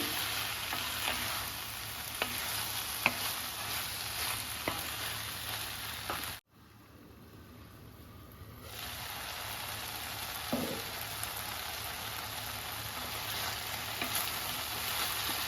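A steady sizzle of spices with coriander, tomatoes, green chillies and cumin frying in a hot pan, with faint stirring clicks and a brief drop to quiet partway through.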